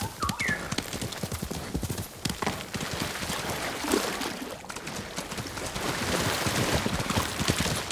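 Horse hooves gallop in the video game Ghost of Tsushima, a fast, close rhythmic clip-clop with a short neigh near the start and faint ambient water underneath.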